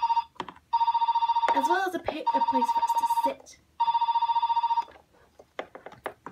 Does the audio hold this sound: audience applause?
no